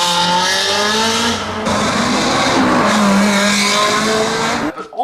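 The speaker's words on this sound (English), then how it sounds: "the 360 is a Ferrari that retains that screaming V8 engine" A Ferrari 360 Modena's screaming V8 drives hard, loud and close, with a high engine note rising and falling through gear changes and tyre squeal, alone without talk.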